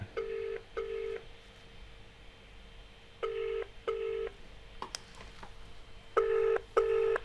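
A telephone rings in a room with a repeating double-burst pattern, three pairs of trilling rings separated by quiet gaps. The rings are moderately loud against low background hiss.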